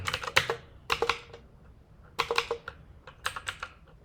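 Keystrokes on a computer keyboard come in quick clustered bursts with short pauses while code is written, close and clear with no talking.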